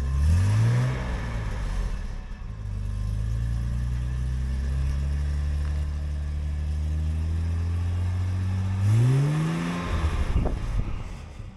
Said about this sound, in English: it's got these protruding twin exhaust pipes that not only look good but sound great